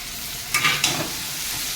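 Cumin-chilli paste goes into a frying pan for a potato and greens curry, giving a close, steady sizzle with two short bursts of scraping as it is stirred.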